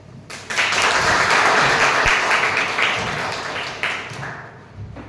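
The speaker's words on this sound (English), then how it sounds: "Please give a round of applause to her." Audience applause at a Toastmasters club meeting: a close, lively burst of many hands clapping that rises quickly, stays full for about three seconds, then thins out with scattered claps.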